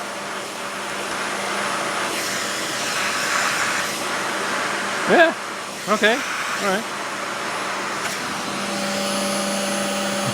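A Hart DC1000 dry canister vacuum cleaner runs with a steady, loud whine throughout, with a few short hooting bursts midway as it is used in an unusual way, while a person speaks briefly over it.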